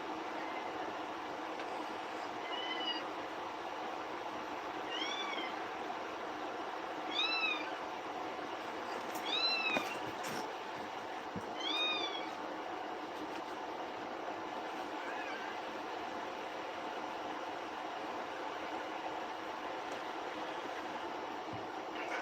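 A mother cat and her kitten meow in short, high-pitched calls, about five in a loose sequence spaced a couple of seconds apart, over a constant low rumbling background hum, fairly faint and with no clear talking.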